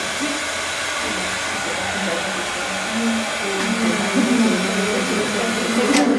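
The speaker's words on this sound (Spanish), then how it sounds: "con la pistola de calor, la pistola les va dando la forma" A heat gun blows steadily over poured resin in an art workshop, a constant airy hiss and motor whine that swells slightly louder toward the end.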